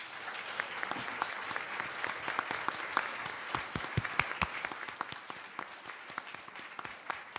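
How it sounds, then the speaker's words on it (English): A round of applause greets a bookshop owner at a community history event, many hands clapping at a steady level with some sharp, nearby individual claps standing out, and no talk over it. "let's give her a round of applause"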